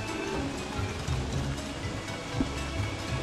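Rain in the video game Don't Starve Reign of Giants, a steady soft wash of falling rain with faint low rumbles underneath, moderately quiet and continuous throughout.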